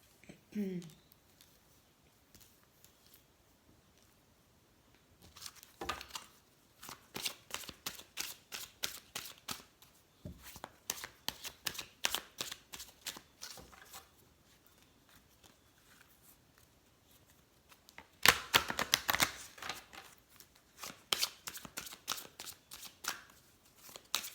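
Ascended Masters oracle cards are shuffled in bursts of rapid, crisp riffling separated by quieter pauses, close by with no talking over it.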